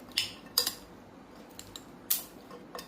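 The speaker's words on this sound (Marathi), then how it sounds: "मिक्स करून घेऊया व्यवस्थित" Corn chaat being mixed with lemon juice and chaat masala in a bowl, a few light, sharp spoon clinks spaced out against a quiet background.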